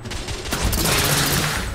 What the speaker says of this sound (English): Press R2 to fire rounds of thermite that burst.